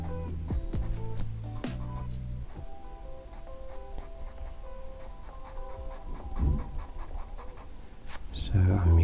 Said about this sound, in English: I'm using the same angle for that shading with the black pencil